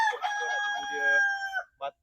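A rooster crows loudly and close on a family farm combining an orchard and poultry in Kuala Pilah, one long drawn-out call, followed by a few short clucks from nearby chickens.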